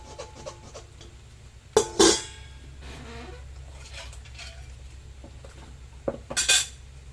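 Dishes and pots being washed at a small coffee-shop kitchen during lunch prep, two sharp clattering clinks of metal and crockery over a low steady hum, with softer scraping and handling in between.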